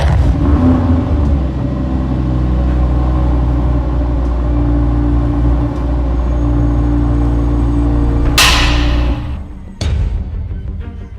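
A car engine revs hard at a loud, steady roar that holds for several seconds, then cuts off abruptly with a sharp burst near the end and a brief restart, with no voices over it.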